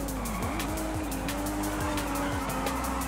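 Car drifting in Forza Horizon 5 racing game, engine droning steadily with repeated tire squeals and skidding across the stretch, loud and close with no talk.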